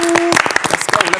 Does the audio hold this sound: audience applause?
yes